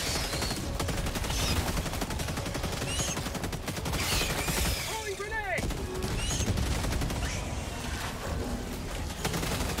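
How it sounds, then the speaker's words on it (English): Artillery strikes pounding a bug nest in Helldivers 2, a rapid fusillade of booming blasts and gunfire layered over the battle, with voices talking now and then. "I'm gonna throw artillery in it."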